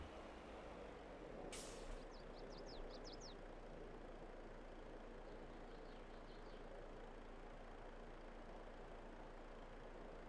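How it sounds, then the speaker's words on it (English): A farm truck in a video game releases its air brakes with a single short hiss, followed by faint chirping tones over a quiet, steady engine hum. "when you hear the air brakes, that means it's ready to rock and roll here"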